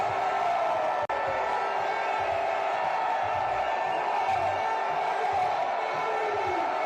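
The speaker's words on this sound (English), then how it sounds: "Hundreds of thousands of fans lining the streets." A huge crowd of Arsenal fans lining the London streets at a victory parade gives a steady, distant roar of cheering and whooping, with one sharp click early on.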